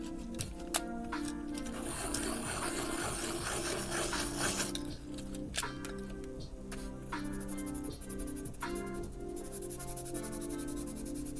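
Pencil sharpener grinding a colored pencil, a steady rasping scrape with a denser burst of shaving in the first half, then lighter intermittent turning and small clicks, fairly close and alone.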